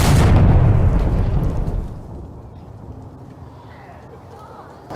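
Cannon or gun fire on a film set goes off as a single loud, close blast that rumbles and decays over about two seconds into quiet background.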